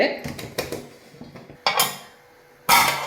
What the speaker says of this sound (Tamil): இப்போ நான் குக்கரை மூடி போட்டு